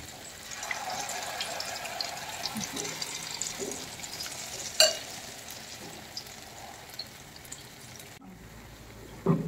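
Malpua batter frying in hot ghee in a pan on a medium flame, a steady soft sizzle and bubbling with a few small clinks.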